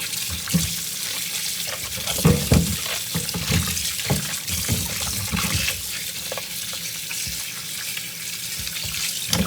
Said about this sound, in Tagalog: But you know what? Let's still wash it.